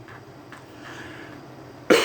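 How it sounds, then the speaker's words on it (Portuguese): A single sharp cough bursts out near the end, loud and close, after a stretch of quiet room noise. "Perdão pela tosse"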